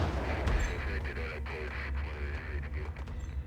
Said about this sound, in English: Frickin' grenade.